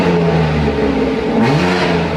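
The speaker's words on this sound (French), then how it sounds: "il va installer les embouts d'échappement qui sont en fibre de carbone d'Akrapovic et démarrer le moteur" A BMW M3 Competition 2022 inline-six engine runs through Akrapovic carbon-fibre exhaust tips with the valve closed, a loud steady idle hum that shifts pitch partway through, close and alone.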